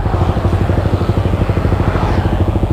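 A Yamaha Vixion motorcycle, an older model prone to stalling, runs close by with a steady, rough, rapidly pulsing engine beat and no talking.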